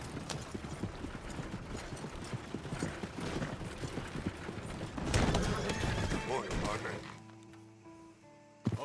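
Horse hooves clop in a steady rhythm and a horse neighs in Red Dead Redemption 2, with creaking tack and mechanical sounds alongside, then the hoofbeats fade out toward the end.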